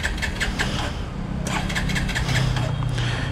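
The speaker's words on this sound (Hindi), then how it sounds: "देखते भाई स्टार्ट होता है या नहीं। नहीं स्टार्ट नहीं हुआ," Starter cranking on a 2024 Bajaj Pulsar NS 125 motorcycle running on E20 fuel with almost no petrol in the fuel pump, a rapid pulsing churn that never catches into a running engine, close and steady throughout.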